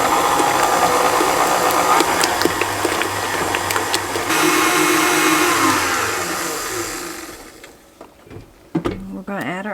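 An electric mixer whirs steadily through orange cinnamon bread dough after an egg and salt are added, a loud continuous motor drone that cuts off near the end, followed by a few knocks and a brief voice.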